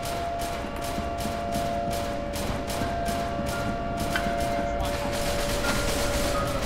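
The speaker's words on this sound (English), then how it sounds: "I don't understand what these folks are shooting at." In the shooter game SCP Secret Laboratory, gunfire comes as a rapid, evenly spaced string of shots over a constant mechanical hum, heard at moderate distance throughout.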